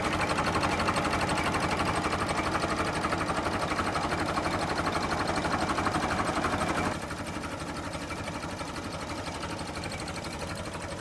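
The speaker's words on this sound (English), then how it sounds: "I just love the sound of this thing idling." A Farmall Super MTA tractor engine idles up close, a steady rapid mechanical chugging that drops to a slightly lower, quieter level partway through and keeps running evenly.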